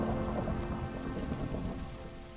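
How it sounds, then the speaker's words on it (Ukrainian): Steady, loud rain hisses through a video game thunderstorm, with a low rolling rumble of thunder underneath and no voices. "Давно грози не було."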